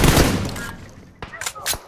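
Burst of gunfire from a shooting video game, loud and dense at first and then tapering off, followed by a few sharper isolated shots near the end, with voices talking over the game audio.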